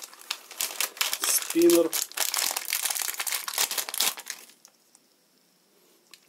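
A thin plastic bag holding a cheap fidget spinner crinkles loudly and steadily as it is unpacked, close to the microphone, then stops. A person speaks briefly during the rustling.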